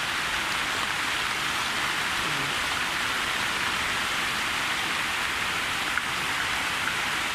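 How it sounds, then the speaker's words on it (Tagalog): Steady rain pours down in a dense, even hiss, loud and unbroken throughout, with no voices. "ayan na umuulan na naman"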